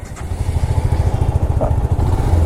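A motorcycle engine, newly replaced, running close by, a steady low throbbing rumble with a quick pulsing beat, loud and with no voices.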